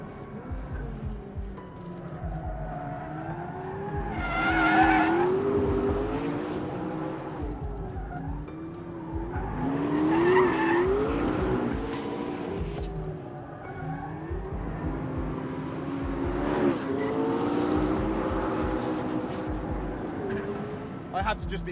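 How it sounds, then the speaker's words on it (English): A McLaren P1 hybrid supercar of 900 horsepower drifts, engine roaring in rising and falling sweeps with tire squeal woven through; someone talks throughout over the car noise. "Just back it in, the chassis got balance, drift, go, and 900 horsepower."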